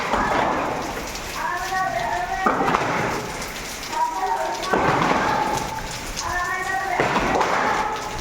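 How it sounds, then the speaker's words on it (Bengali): Heavy downpour drumming steadily outdoors, a dense continuous roar of rain on surfaces with occasional louder gusts, while a voice speaks intermittently over the storm. "খুব বৃষ্টি হচ্ছে, প্রচণ্ড বৃষ্টি হচ্ছে।"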